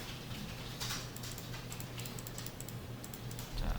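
Quick run of keystrokes on a computer keyboard typing a console command, a light close tapping rhythm over a quiet hum, with no voices.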